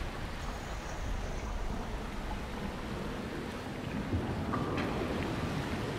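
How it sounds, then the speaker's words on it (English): A waterfall in the video game Thief, in the Return to the Lost City fan mission, flows upward beside lava as a steady broadband rush of water, even and unbroken for several seconds. "Waterfall going up the lava"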